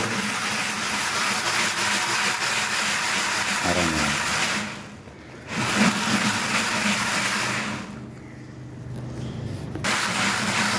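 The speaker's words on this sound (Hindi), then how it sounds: "ये कुछ देर तक इसको मिक्स करेंगे ताकि अच्छी तरह से ये मिक्स हो जाए" Wheat seed churns in a mixer as seed treatment chemical is worked in, producing a loud continuous rumbling whir that dips twice in short pauses before resuming.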